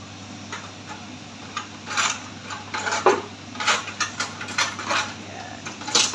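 Longan, sticky rice and coconut milk are stirred in a pot with a utensil, making irregular scraping and knocking clatters against the metal over a steady low hum.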